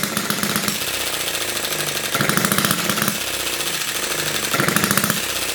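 A tiny 6cc hit-and-miss engine runs steadily, a rapid mechanical chatter with periodic bursts of firing every second or so between coasting stretches, close and fairly loud with no voices.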